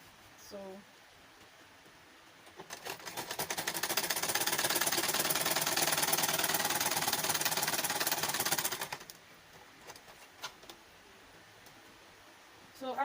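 Sewing machine stitching a seam on a flare skirt, a fast steady whir that runs for about six seconds before stopping, with a quiet voice speaking before and after.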